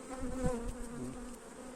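Honeybees buzz steadily and close during a hive inspection, a continuous droning hum with no talk over it.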